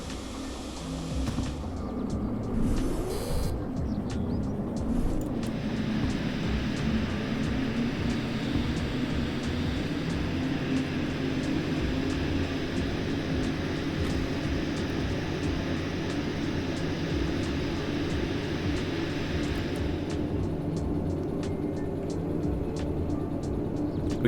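Train cars straining to get moving in the Derail Valley railway game, a continuous loud rumbling locomotive drone with grinding mechanical noise throughout, steady and unbroken with no voices.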